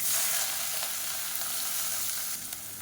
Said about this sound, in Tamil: இப்போ இதில் ஒரு கைப்பிடி அளவுக்கு வெங்காயம் சேர்த்துக்கலாம்